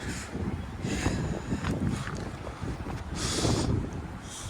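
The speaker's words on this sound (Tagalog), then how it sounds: "Mahangin." Wind rushes and gusts across the microphone in downtown Oakville, a moderate rumbling that swells and fades, with faint traffic-like noise and no talking.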